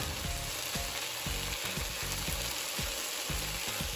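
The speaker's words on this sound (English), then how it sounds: "I just kind of add some in, stir it up" Ground meat for chili sizzles in a pan as chili seasoning, salt, black pepper, garlic powder and onion powder are stirred in, with rhythmic scraping strokes over constant close frying hiss.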